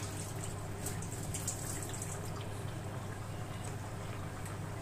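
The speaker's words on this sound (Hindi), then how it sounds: "और इसका मैं पानी फेंकती हूँ चावलों का" Soaked basmati rice has its soaking water poured off, a steady faint splashing and dribbling of water continuing evenly throughout with no speech.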